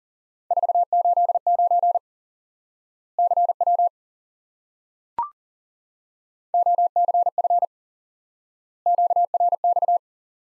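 Ham radio Morse code CW practice tones: crisp beeping bursts of dots and dashes in separate groups with silent gaps between them and one sharp click near the middle, loud and clean with no background.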